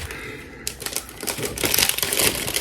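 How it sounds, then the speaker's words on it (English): Parfums de Marly Galloway perfume packaging being unwrapped, with close crinkling and crumpling of wrapping material, quiet at first and building into denser, louder rustling through the second half. "That's it. That's the unboxing. Well, the unwrapping."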